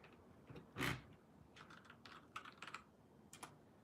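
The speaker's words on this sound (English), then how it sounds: "My keyboard." A computer keyboard being typed on close to the mic, with a louder clack near the start and then scattered soft key taps in irregular bursts, quiet and with no talking.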